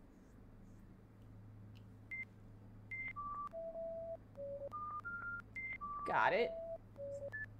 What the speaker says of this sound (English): Are these beeps the same every time or are they different?